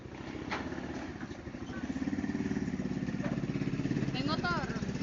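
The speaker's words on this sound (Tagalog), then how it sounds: "May motor." A motorcycle passes nearby with a throbbing mid-pitched engine putter that swells louder in the second half, while children call out and talk over it.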